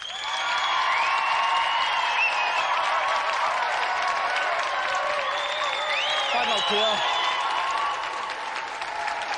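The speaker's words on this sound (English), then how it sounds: "Round of applause for Peter." Studio audience applauds steadily for a contestant on a televised video games show, a dense continuous clapping wash with cheering that stays loud throughout while a presenter speaks briefly over it.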